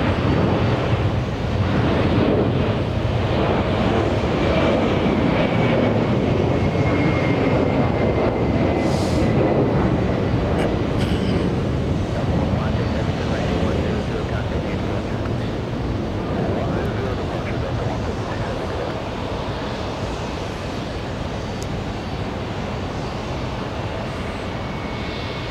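A Delta airliner moves at JFK airport, heard as a broad distant jet rumble with steady wind noise that fades slightly over time.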